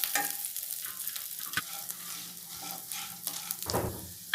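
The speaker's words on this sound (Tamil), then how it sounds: "நெய்யில் மிளகு, ஜீரகம், துவரம்பருப்பு, பூண்டு எல்லாத்தையும் வறுத்துக்கோங்க" Pepper, cumin, toor dal and garlic roast in ghee for a herbal rasam, giving a steady soft sizzle with occasional stirring scrapes, close and alone without speech.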